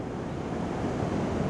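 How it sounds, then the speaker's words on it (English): Rough surf on an Oregon coast beach rolls in as a dense, continuous wash of crashing waves mixed with wind buffeting the microphone, loud and steady with no talk. "It's a rough and rowdy sea today, as it has been the last couple of days."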